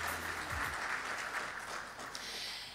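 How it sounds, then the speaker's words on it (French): Steady clapping from a conference audience for panelists, a dense continuous patter holding fairly even throughout and easing slightly toward the end. "Je vais vous prier d'applaudir une fois de plus pour nos différents panélistes."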